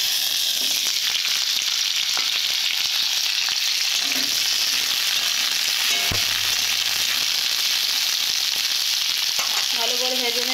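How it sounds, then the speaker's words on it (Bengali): Moringa drumstick pods frying in a pan for a vegetable ghonto, a steady close broadband sizzle running throughout with occasional stirring clatter. "প্রথমে সজনা খাড়াগুলোকে ভেজে নেব।"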